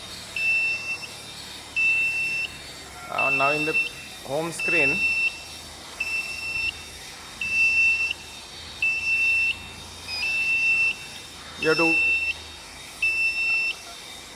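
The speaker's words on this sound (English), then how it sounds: "this buzzer is indicating that something has gone wrong" Autoclave emergency alarm buzzer beeping in a steady repeating pattern of short, evenly spaced high-pitched tones, continuing under a man's speech in an indoor setting.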